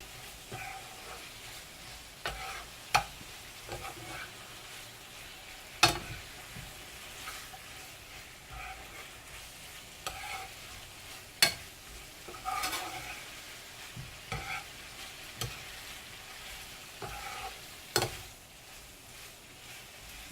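A meat mixture stirred into potatoes frying in a pan for a big breakfast bowl, with a steady low sizzle and sharp scraping stir strokes every few seconds, close and alone with no talk.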